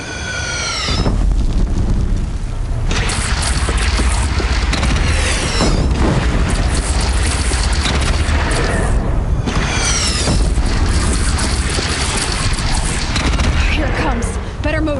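Heavy cannon blasts and booming impacts fill a loud, dense battle scene in the video game Horizon Zero Dawn, with a continuous rumble, several sharp bursts and voices calling out over the din.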